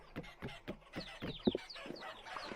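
Chickens cluck in short repeated bursts in the video game Vintage Story, several calls overlapping at moderate volume with one louder squawk in the middle.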